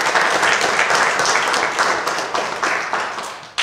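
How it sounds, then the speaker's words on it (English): A congregation at a Sunday church service during Lent applauds, with dense, loud clapping filling the room and holding steady before tapering off at the end. "you can applaud afterwards"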